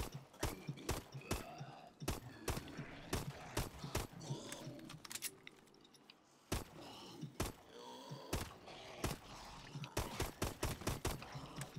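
Gunfire in Advanced Warfare Exo Zombies, a rapid series of sharp, close gunshots in irregular bursts, with a brief pause midway before the shooting resumes.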